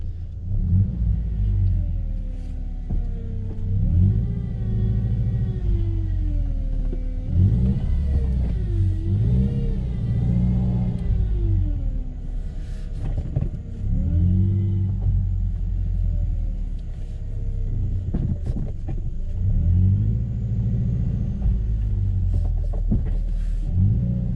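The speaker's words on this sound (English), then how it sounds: "So we're going to go forward and reverse, both full right lock and full left lock" A Subaru with a 5-speed manual and a newly replaced center differential drives forward and then in reverse at full steering lock. A steady, close car engine rumbles throughout, rising and falling as it revs, with no talking.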